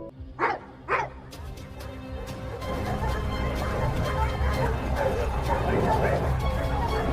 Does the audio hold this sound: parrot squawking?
no